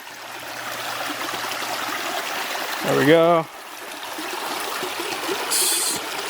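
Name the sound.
water of a creek flowing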